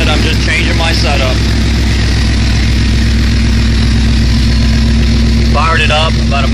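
A built Ford GT500 V8 idles loud and steady with a low, even rumble, filling the clip while someone talks briefly over it at the start and end.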